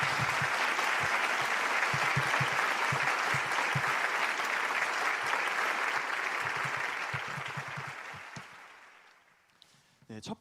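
A large audience at the 2021 Hyojeong Youth Blessing Festival claps and shouts in a dense, sustained roar that stays steady for about eight seconds, then thins out and fades near the end.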